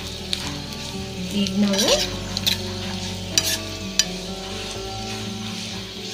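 Poppy seeds sizzling and frying in a pan while being stirred for a sweet dish, a steady hiss with scraping stirs and a few sharp clinks of a utensil against the pan, close and clear; a voice speaks briefly.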